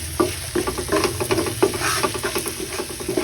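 Fried rice stirred and tossed in a frying pan, a spatula scraping in quick repeated strokes over a steady sizzle, close and fairly loud with no voices.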